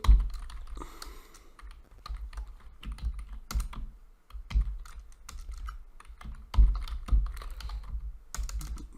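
Steady keyboard typing of HTML code on a computer, a run of quick close keystrokes with brief pauses and a few heavier key presses, heard alone without talk.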